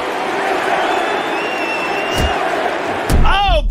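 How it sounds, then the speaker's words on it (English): A large arena crowd in the UFC Undisputed 3 video game roars and cheers steadily throughout a mixed martial arts fight, with a heavy thud and a louder swell of cheering near the end. "this crowd tonight really loving Georges St-Pierre"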